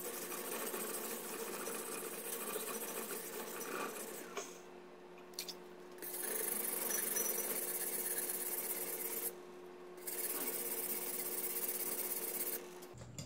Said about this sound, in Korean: 큰 거 부분은 여기를 갈고 좀 끝부분은 이렇게 양끝으로 갈고